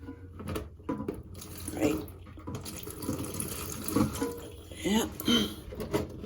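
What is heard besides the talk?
water draining into a bucket during fill valve replacement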